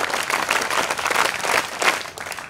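Audience at a career academy event in Pune claps in a steady sustained burst, dense overlapping hand claps filling the room at moderate loudness rather than a single clean clap.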